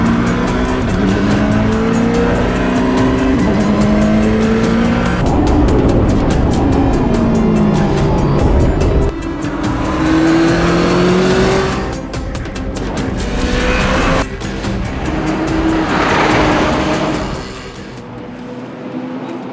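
A Czinger car racing hard around a track, its engine loud and close, rising and falling through gear changes with tires squealing through corners, the roar easing off toward the end.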